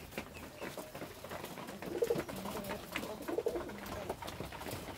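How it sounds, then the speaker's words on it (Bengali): Pigeons cooing inside a pigeon house, soft repeated low coos from a few birds at close range over a light background rustle. "কবুতরগুলো খাওয়া দাওয়া করে ফেলছে"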